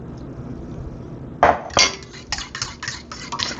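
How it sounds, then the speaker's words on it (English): A whisk or fork clinks rapidly against a bowl while egg and buttermilk are mixed, with two louder knocks at the start, then a steady rhythmic tapping, close and clear. "I'm gonna mix the egg and the buttermilk."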